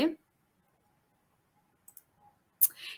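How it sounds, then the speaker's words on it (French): A single sharp computer mouse click, close and quiet, then a few faint clicks and a brief rustle in an otherwise silent room. "Donc, je clique OK."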